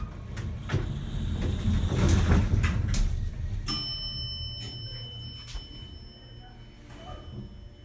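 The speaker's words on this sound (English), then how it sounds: "Door will close in a second." An Otis hydraulic elevator in a college business building closes its doors: a sliding rumble and clunk followed by a bright ding, with a faint hum settling afterward.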